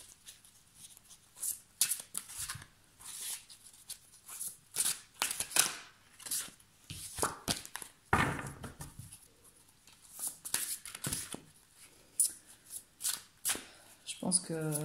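Tarot cards shuffled by hand, a steady run of crisp riffles and soft flutters close up, with a voice talking intermittently over the card noise.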